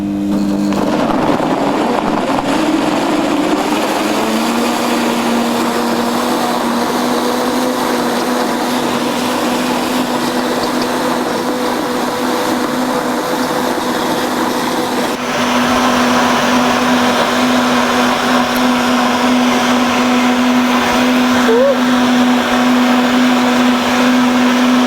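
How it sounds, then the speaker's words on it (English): Kitchen blender runs continuously for about twenty-five seconds while blending a detox juice, a loud steady motor whine with a slight pitch rise near the start and a churning, whooshing wash of liquid throughout. "Always turn on your blender first before you start blending, so you know it's not so hard or harsh on your blender"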